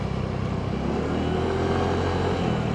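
Yamaha Mio Gravis V2 scooter engine at low RPM with a dragging fault, giving a steady, close, continuous low drone that stays fairly even throughout.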